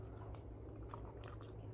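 Close, soft chewing of grilled churrasco steak, a wet, squishy mouthful with a few faint crunchy bites, steady and quiet throughout.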